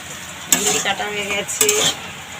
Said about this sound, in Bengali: প্রথমে আলু ভাজাটা করছি, দেখে নাও। আলু ভাজা বসিয়েছি আমি।